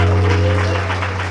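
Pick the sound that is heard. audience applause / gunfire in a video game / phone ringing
audience applause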